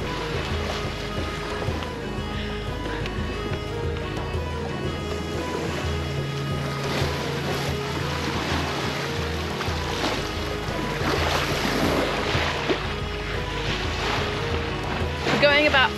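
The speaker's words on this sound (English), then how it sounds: "All the sails are up." A sailboat under full sail on the cold ocean at about 5 knots, with a steady wash of waves and water along the hull under constant wind, while people talk quietly aboard.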